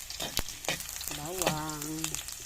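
Garlic sizzles and crackles in a pan over a wood fire, with a brief stirring clatter and a short voice-like tone over the frying.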